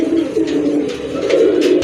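A male pigeon coos repeatedly up close, a low throaty rolling call in steady pulses with faint background noise.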